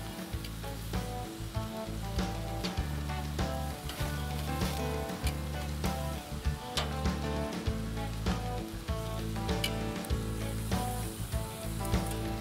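Lamb steaks sizzling steadily on a grill, a dense continuous crackle and hiss with scattered pops, close and fairly loud, with no talk.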